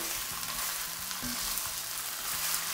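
Diced lamb sizzles steadily in a wide pan, a dense continuous frying hiss with soft scrapes and knocks of stirring underneath, close and even, no voices.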